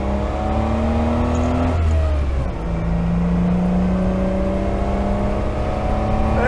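An Austin Healey 3000 engine pulls hard through the gears, its exhaust note climbing steadily, dipping at a shift and then rising again, loud and close throughout with no talking.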